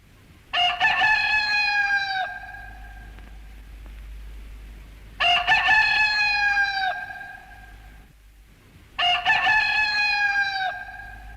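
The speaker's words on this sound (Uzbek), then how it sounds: "Shunda qilib, xo'rozning chillishi bilan quyosh chiqibdi." A rooster crows three times, loud and close, each long cock-a-doodle-doo separated by a few seconds of quiet.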